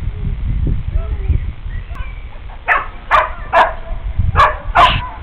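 A dog barks several times in a row in the second half, sharp yelps close by, after some low murmuring and background noise.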